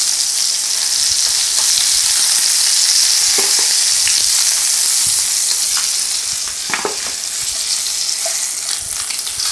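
Pork chops sizzle and fry in a pan with butter, a steady close crackle running throughout with occasional louder pops and spits, no talking.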